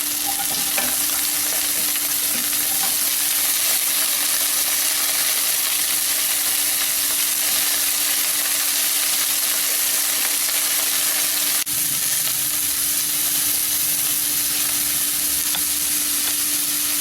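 Broccoli roasts, sizzling and crackling steadily in a little oil in a hot nonstick pan, loud and continuous throughout with a faint steady hum beneath.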